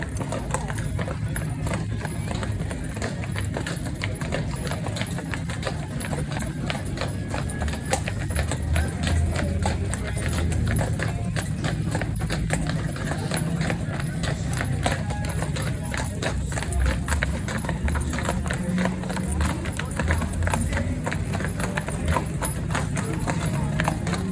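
Horses clip-clop steadily at the Fort Worth stockyards, a rapid run of hoof strikes on hard ground at moderate distance, under continuous talking throughout.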